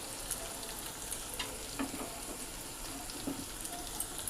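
Chopped beans fry in a pan for chire pulao, a soft, steady sizzle with faint stirring clicks and scrapes, fairly quiet and continuous with no talk.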